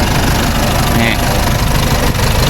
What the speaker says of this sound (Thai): เครื่องยนต์ไม่ต้องพูดถึงเดินนิ่ง ๆเนี่ย